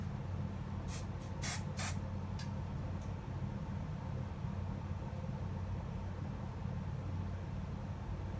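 Texture spray is sprayed onto hair in a few short hissing bursts close by, followed by steady low background noise.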